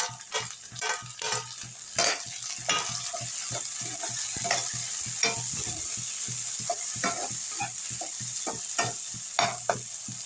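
Tomato frying with browned onions for an okra palya, a continuous close sizzle broken by repeated scraping strokes of a spoon stirring the pan.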